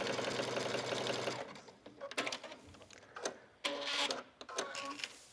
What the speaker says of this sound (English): I'm just going to use a zigzag stitch, whatever width you want to use, and just stitch.